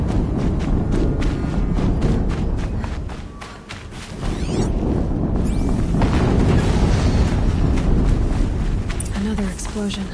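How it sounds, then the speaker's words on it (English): Explosions go off in the video game Horizon on a very hard new game+ playthrough, heavy booming blasts and crackling debris layered over continuous loud game noise and music. "Another explosion."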